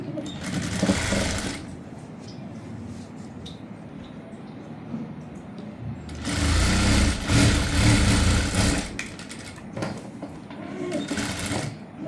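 Sewing machine stitching a prince-cut blouse, running in loud bursts at the start and again midway through, with quieter motor hum and handling sounds between.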